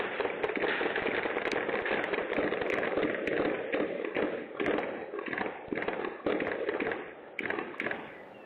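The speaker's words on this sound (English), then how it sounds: "they were met with a barrage of gunfire. It was all captured on this Ring doorbell video" A rapid barrage of gunfire picked up by a Ring doorbell camera outside a home during a police call in Clayton County, the sharp cracks and thuds coming thick and fast, somewhat distant and distorted, over steady background noise.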